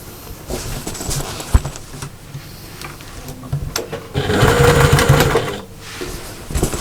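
A sewing machine running in short bursts as it back stitches straight across a pouch seam, close and fairly loud, with a hum of motor and needle chatter that builds to a longer steady run near the end.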